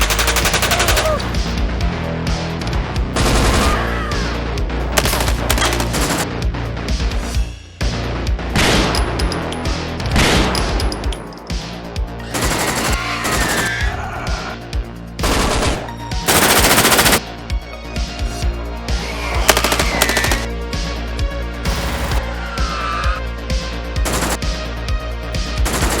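Machine gun fire in a tabletop-game sitcom gunfight, sustained loud automatic bursts and fusillades that roll almost continuously, with heavy booming impacts, brief lulls and sharp cracks layered over a dense battle din.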